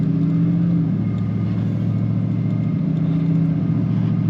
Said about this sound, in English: the way it idles, that loud grumble of 305 horsepower